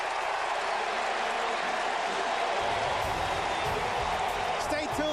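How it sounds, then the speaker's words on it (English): A stadium crowd at an NFL game between the Dallas Cowboys and Atlanta Falcons roars and applauds as the first half ends, a dense sustained din with a commentator talking over it. "And the crowd loves it."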